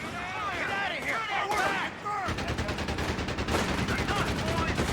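Heavy machine gun fire in Company of Heroes 3, a fast, sustained rattle of shots in the second half, mixed with shouting voices and battle noise.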